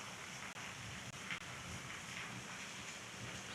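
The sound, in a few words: north wind blowing at a fishing spot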